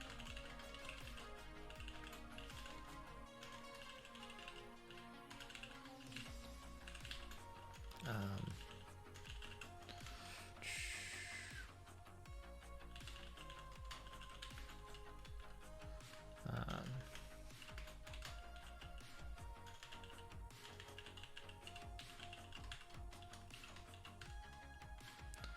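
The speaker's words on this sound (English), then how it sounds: "Really good typing skills here." Computer keyboard typing during coding, a fast continuous patter of close key clicks with occasional louder taps, running steadily under a faint background hum.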